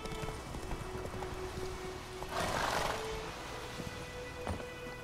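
Faint hoofbeats of a horse moving along in The Witcher 3 video game, with a short breathy neigh in the middle, quiet and a little distant.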